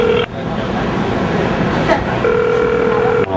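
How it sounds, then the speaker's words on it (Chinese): A phone call rings out unanswered, a steady electronic ringback tone repeating in long pulses over murmuring voices and background noise. "工作人员直接打传单电话询问"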